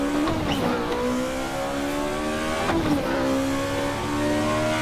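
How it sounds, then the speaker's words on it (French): BMW M2 driven in the racing game Assetto Corsa EVO, its engine note climbing through repeated revs and gear changes, loud and continuous with sharp pitch drops between pulls and no speech over it. "le moteur m'a l'air vraiment très réactif à la pédale"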